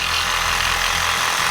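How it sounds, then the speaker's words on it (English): Power saw cutting through an aluminum bell housing flange on a Jeep, a loud, continuous harsh grinding rasp, close up with no pauses. "So I'm just gonna cut this off."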